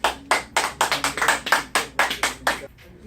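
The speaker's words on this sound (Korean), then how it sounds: "영광의 박수" A church congregation claps together in a quick, uneven burst of about a dozen loud hand claps. The clapping stays close and rhythmic, then stops abruptly.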